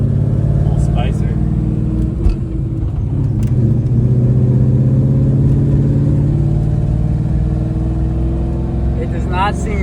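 A Fox Body car with a GT500 engine swap driving, a loud steady engine drone from inside the cabin with people talking over it throughout.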